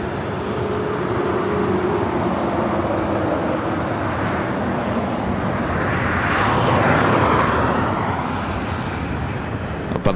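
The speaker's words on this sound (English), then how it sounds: "Alaska Airlines flight 1315 heading back to Portland at 737 MAX 9. Heading up here for a north side takeoff." An Alaska Airlines Boeing 737 MAX 9 bound for Portland powers up for a north side takeoff at LAX, a broad, steady jet roar that swells louder and then slowly fades.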